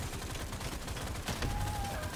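Weapons fire continuously at the dreadnought in Deep Rock Galactic Survivor, a dense rapid stream of gunfire bursts layered with game effects and a rising tonal whine near the end.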